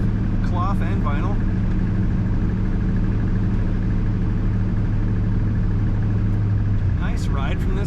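A 1961 Plymouth Fury two-door hardtop with a Slant 6 engine drives along, its steady low engine drone and road rumble continuous throughout, with someone talking over it.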